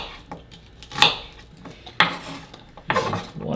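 A small knife chops through an onion on a board in a home kitchen, three sharp knocks about a second apart, each with a brief scraping rasp, close and alone.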